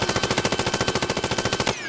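Rapid automatic fire from sentry guns in the Worms Revolutions video game, a loud rattling burst of evenly spaced shots that stops abruptly near the end.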